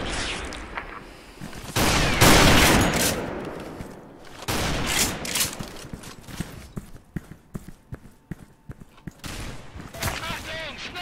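Heavy gunfire erupts in the Special Force 2 shooter, with loud bursts of rapid shots and sharp single cracks coming in clusters, some near and some further off, while a voice speaks in between.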